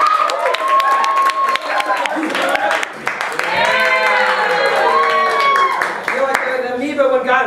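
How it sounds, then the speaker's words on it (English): An audience claps in a fast, continuous patter under loud voices and cheering. "Let's clap for yay."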